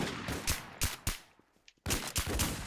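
Gunfire in the video game Warz, a string of sharp close shots in quick succession, a brief lull with faint sounds, then another burst of rapid shots.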